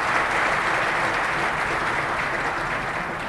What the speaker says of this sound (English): please applaud them strongly.